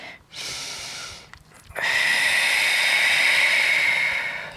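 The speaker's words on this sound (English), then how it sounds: "Take a breath here." Deep breathing during a yoga downward-facing dog pose: a short breath, a pause, then a long, steady, loud exhale with an airy hiss, close to the microphone.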